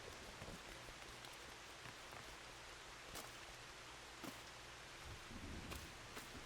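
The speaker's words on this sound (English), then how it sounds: "Whoa, whoa, it's raining a lot." Heavy rain in the Final Fantasy XIV video game, a steady, dense hiss of falling water with a low rumble underneath that suggests distant thunder, continuous and fairly quiet, without speech.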